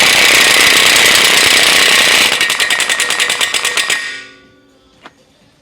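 A cordless impact wrench tightens a CV axle nut onto the axle shaft, a loud continuous buzz breaking into rapid hammering bursts before stopping, followed by a single small clink.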